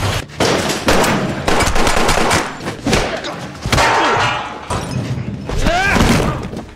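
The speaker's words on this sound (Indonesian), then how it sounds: "baku tembak solo versus squad pun terjadi" Pistol shots in a shootout between one fighter and a squad crack in rapid, irregular bursts with thuds and impacts, loud and close, mixed with shouting voices and dramatic film-style effects.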